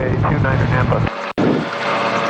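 A Cavalon autogyro gyroplane's engine roars loud and steady at full throttle for takeoff, a close, continuous propeller drone with a brief dropout, while a pilot talks over it.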